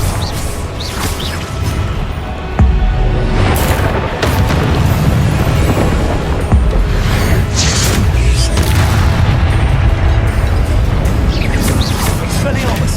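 Confringo blasting spells explode in Hogwarts Legacy combat, with repeated booming blasts and crashes over a loud, busy battle bed. Voices are heard throughout.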